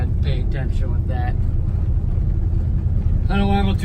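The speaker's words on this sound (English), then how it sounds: "This truck's loud." A Chevrolet S-10 pickup truck driving with an open header, producing a loud, steady low rumble; someone speaks over it at the start and again near the end.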